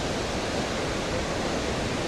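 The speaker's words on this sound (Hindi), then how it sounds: "ये ऊपर से जो सेला पास के साइड से पानी आ रहा है वो सारे इधर फॉल हो रहा है" Jang waterfall in Arunachal Pradesh, fed by water coming down from the Sela Pass side, roars close by as a steady, dense rush of falling water with no pauses.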